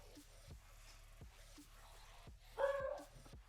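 A dog barks several times in a quiet room, short sharp yaps spaced about a second apart, then a louder, longer whining yelp near the end, all fairly close and without talk.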